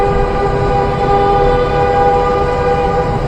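A loud, sustained vehicle horn blares continuously over a rumbling vehicle in a road tunnel near Ancol, Jakarta, close and unbroken.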